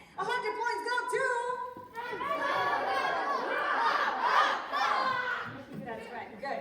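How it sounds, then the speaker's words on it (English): Classroom team of students shouting their team cheer together in an energetic group burst, mixed with excited overlapping voices and laughter, after a brief spoken lead-in. "they were the only ones that did their team cheer"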